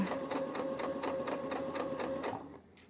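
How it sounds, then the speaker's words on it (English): A sewing machine stitches forward at a steady pace, giving about nine even mechanical thumps with a faint motor whine beneath, close and quiet, stopping just before the end. "did 2 stitches forward and 2 stitches back, and then stitched forward"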